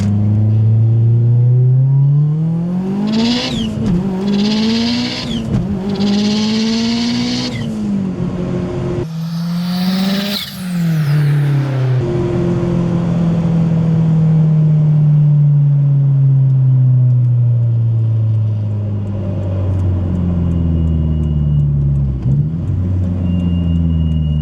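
A powerful tuned car engine revs hard in first gear through rising pulls with brief breaks between them, loud and close, then settles into a long falling drone.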